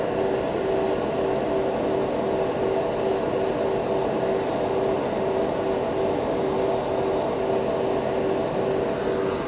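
A Badger Xtreme Patriot airbrush sprays enamel paint onto a Gunpla model piece. It gives a steady, close, hissing spray with faint periodic pulses throughout, and no one talks.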